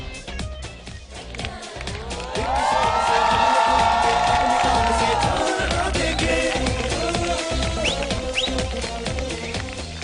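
A studio audience at a comedy talk show breaks into loud, sustained cheering and clapping, with whoops and whistles swelling and staying strong before easing slightly toward the end.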